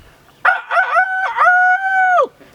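A rooster crows once, loud and close: a few short choppy notes lead into a long sustained, slightly wavering cry that drops off sharply at the end, with no other sounds.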